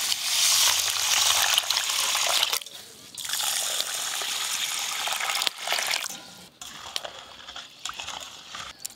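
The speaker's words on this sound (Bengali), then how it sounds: "গরম হতে হতে আমি চাল ডালটা ধুয়ে নেব" Gobindobhog rice and lentils are washed in running water, with splashing and rinsing swirls that break off and restart in short bursts, close and fairly loud.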